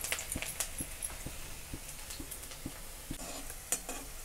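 Onion and curry leaves frying in plenty of oil, stirred with a utensil: quiet, steady sizzle broken by a regular series of light clinking stir taps against the pan, close by with no speech.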